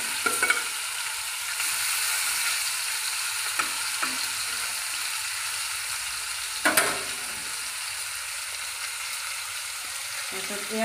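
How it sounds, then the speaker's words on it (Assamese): Fish frying in hot oil in a home kitchen, a steady dense sizzle with occasional sharp clicks and scrapes of stirring, close up. "মাছ ফ্ৰাই কৰিছো মই"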